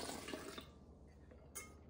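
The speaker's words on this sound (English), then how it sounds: "Add the water." Water pours into a bowl of sourdough starter at a kitchen scale, a steady close splash that tapers off, then a brief second gush near the end.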